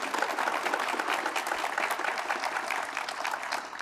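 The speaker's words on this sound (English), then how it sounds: "So how about a round of applause for our guests?" An audience applauds the guests at an evening talk on the economic downturn with a professor and a congressman; dense, even clapping fills the room steadily from start to finish.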